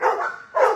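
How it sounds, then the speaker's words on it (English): Two short, close barks from a dog at an animal shelter, loud and sharp with a brief gap between them. "She is definitely one of my favorite dogs in the shelter, one of Ruby's favorite dogs as well."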